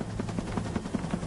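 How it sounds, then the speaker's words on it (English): Helicopter on an offshore platform, stopping briefly to refuel: a steady rotor drone with regular rhythmic blade thumps about five times a second, close and continuous, no voices. "The chopper only stops long enough to refuel"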